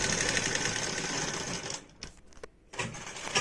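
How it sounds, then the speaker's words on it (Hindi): A sewing machine stitches seams on a frock, running in a steady, dense mechanical whir that breaks into short stops and restarts near the end. "इस तरह से हम इसको सिलाई लगा देते हैं बहुत ही अच्छे से"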